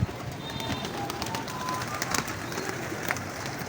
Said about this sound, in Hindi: नंबरों वाले बेतहाशा कबूतरों का ढेर लगा हुआ है यहाँ पे।